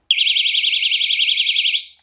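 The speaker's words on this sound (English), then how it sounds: "I wanted it to play pranks on people because it is an alarm doorstop" Alarm doorstop switched on, sounding a single loud, shrill, rapidly warbling high-pitched electronic tone that holds steady for nearly two seconds before cutting off.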